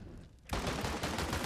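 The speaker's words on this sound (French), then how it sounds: "le spray duel Beretta, tu fermes les yeux, tu tires" Rapid pistol fire from dual Berettas in Counter-Strike, a loud dense spray of shots bursting in suddenly after a quiet moment and continuing without pause.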